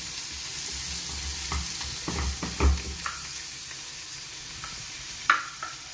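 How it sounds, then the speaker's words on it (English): Vegetables fry in a pan on a home stove, a soft steady sizzle with occasional louder scraping stirs and clinks of a utensil, heard close and without talk. "Now let us fry it for 5 minutes."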